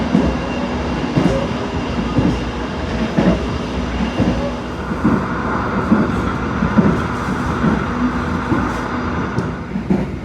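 The Gajayana passenger train in Indonesia rumbles steadily departing Kediri station, with rhythmic clickety-clack of wheels over rail joints, a continuous, fairly close mechanical roar with no talking.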